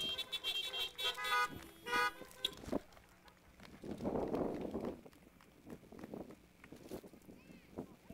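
Several car horns honk in short bursts at the start of a baptism service, followed by quieter background noise and scattered sounds.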